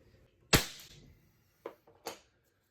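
Nail gun firing into wall framing lumber: one sharp, loud pneumatic snap with a short decay, followed by two smaller quick bangs about a second and a half later, close up.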